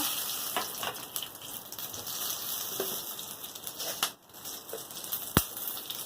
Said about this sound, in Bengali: তেল গরম হয়ে গেছে, অল্প একটু চিনি দিয়ে দেবো। এবার একটা লঙ্কা ফোড়ন, একটা তেজপাতা